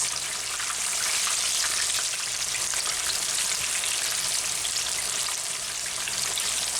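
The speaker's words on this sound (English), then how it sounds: "We've got 8 pieces of chicken all frying up here" Oil sizzles and crackles steadily as eight pieces of chicken fry in a cast iron pan, a dense, continuous hiss heard up close with no voices.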